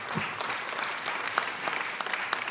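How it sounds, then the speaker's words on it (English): An audience at a Detroit program launch with Mayor Duggan applauds steadily, a dense wash of many hands clapping at once, sustained and fairly loud throughout with no voices over it. "Let's give them a round of applause real quick."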